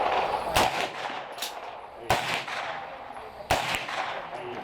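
Sharp gunshots from a pistol taking Glock 17 or 19 magazines at an outdoor range day, three loud separate reports spaced about 1.5 seconds apart, each with a short echoing tail and a faint fainter pop between.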